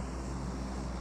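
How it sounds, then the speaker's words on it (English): An airplane flies over in the video game PUBG Mobile, a steady low droning rumble with a broad wash of noise, held continuously over a short moment with no talking. "Oh, it's a plane."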